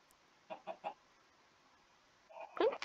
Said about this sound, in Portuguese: Que barulho de... Jurava que era um cachorro? Mas é uma galinha.